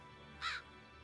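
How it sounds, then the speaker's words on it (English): A single crow gives one short caw, faint and distant against a quiet background hum. "Did that crow just answer yes for me?"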